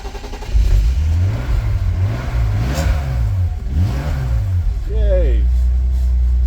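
Engine of a BMW E46 330Ci running close, rising and falling through several revs, with people talking over it.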